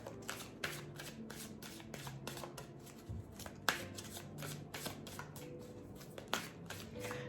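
Tarot cards are shuffled steadily for a Scorpio reading, producing a continuous papery riffling and slapping with sharp snaps throughout, close and fairly quiet, with no voices.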